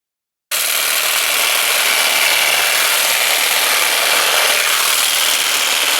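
A Makita XMU04 cordless grass shear runs with a loud, steady whirring buzz that starts abruptly after a brief silence and holds evenly throughout, with no talking.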